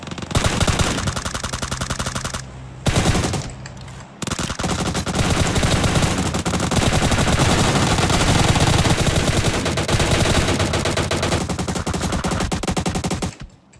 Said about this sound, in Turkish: Üf ne çatışma oldu be.